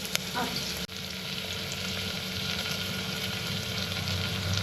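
Chopped onions frying in a pan as they are stirred, a dense steady sizzle with a brief tap near the start, close and moderately loud, no speech.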